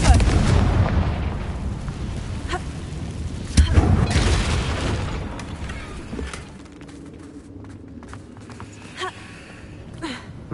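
A Confringo fire spell explodes in Hogwarts Legacy, a deep booming blast followed by a crackling, rumbling tail that fades over several seconds amid other game effects.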